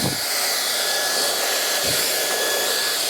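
Hair dryer blowing steadily on fringe roots, a continuous close airy roar with a faint whine, with a couple of brief soft bumps from handling.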